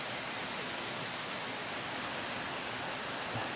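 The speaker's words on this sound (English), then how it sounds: "Waterfall in Garden Creek here" Water pours down a small waterfall in Garden Creek within the Tapeats Narrows of the Grand Canyon, a steady broadband rush heard close and uninterrupted.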